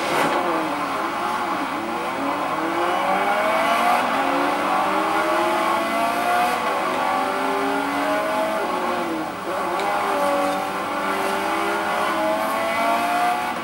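B-class race cars roar and rev continuously in Forza Horizon, a dense, steady engine drone with rising and falling pitch sweeps from gear changes, loud and unbroken throughout with no talk.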